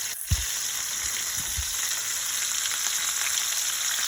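Red snapper frying in a pan on a stovetop, giving a steady, even sizzle, with a couple of low thumps early on and no voices.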